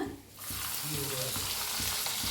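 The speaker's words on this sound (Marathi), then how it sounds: "गरम झाले त्याच्यात टाकू एक चमचा जिरं थोडंसं हिंग टाकूया लसूण" Cumin seeds, a pinch of asafoetida and garlic sizzling in hot oil in a pan for rajma, a steady close crackling fry with soft stirring scrapes throughout.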